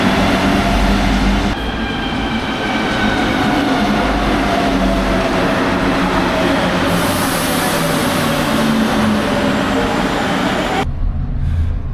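A Mexico City subway train rumbles and screeches loudly along the rails as it arrives at a station, a continuous roar with clattering, then cuts off abruptly near the end.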